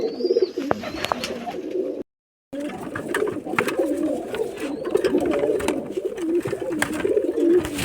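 Pigeons kept for sale coo in low, repeated throaty bursts close by, with rustling, wing flutters and a sharp brief dropout partway through.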